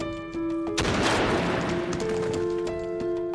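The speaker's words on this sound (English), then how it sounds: "a crisp gunshot cuts through the silence of the battlefield" A gunshot sound effect on a battlefield: one sharp, loud crack bursts out of a quiet backdrop with a steady tonal hum, followed by a rolling, decaying rumble.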